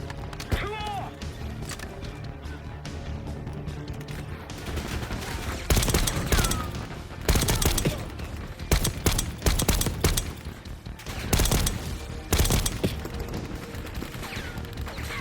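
Call of Duty: Black Ops 6 campaign gunfire, repeated loud bursts of automatic fire and scattered shots over a busy battle soundscape, with a voice speaking at times.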